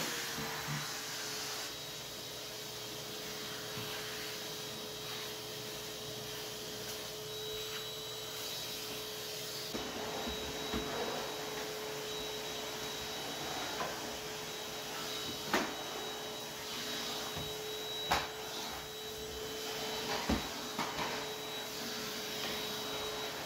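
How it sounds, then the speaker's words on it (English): A vacuum cleaner with a brush attachment cleans an air return vent during housecleaning, its steady motor drone running unbroken throughout, with a few soft knocks and scrapes as the brush works the grille. "I'm using the brush attachment to clean the air return vent here."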